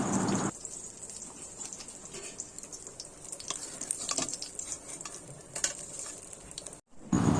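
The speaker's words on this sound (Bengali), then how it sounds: "আর এদিকে বাকি মাছগুলো ভাজা হয়ে গেছে," Pieces of fish frying in hot oil in a pan give a steady, close sizzle with occasional stirring scrapes, running continuously before stopping abruptly near the end.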